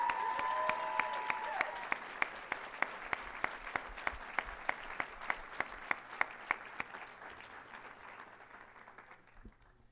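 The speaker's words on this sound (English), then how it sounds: "Let's give them a round of applause." Sustained applause from an audience honoring scholarship recipients at the Keeper of the Dream 2015 event, dense steady clapping with a faint tone early on, gradually thinning and fading out near the end.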